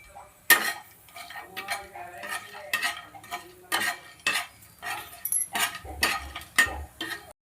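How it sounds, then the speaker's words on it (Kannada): Spices or vegetables frying in oil over a high flame for a festive holige saaru, with an irregular sizzle, frequent spoon-stirring scrapes and clinks against the pan, and close, moderately loud bursts throughout. "ನೀಟಾಗಿ ಹುರಿತಾ ಇದ್ದೀನಿ."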